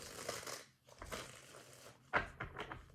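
Tarot cards being shuffled by hand, a few quick papery riffles and slaps in bursts, close and moderately loud, with one sharper crisp burst near the end.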